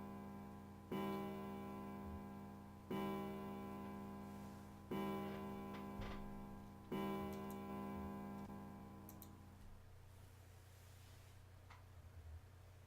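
A clock bell in the video game 999 strikes four evenly spaced, ringing tones about two seconds apart, each decaying slowly, before fading out over a low steady hum.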